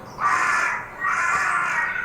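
Two harsh, drawn-out caws from a crow, each call loud and close, separated by a short pause with no talking around them.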